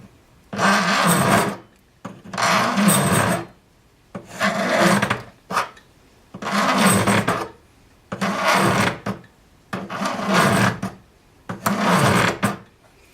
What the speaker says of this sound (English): Sharp corners are the most difficult to file.